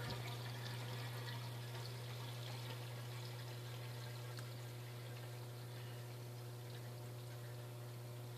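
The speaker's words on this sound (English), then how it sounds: "you guys can just watch that water level go right up" Water flows steadily into a reef tank sump as the level rises after the power is pulled. A continuous rushing trickle sits over a constant low electrical hum for the whole stretch, and no one speaks.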